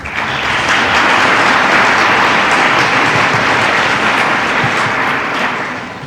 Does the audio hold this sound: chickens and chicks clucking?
no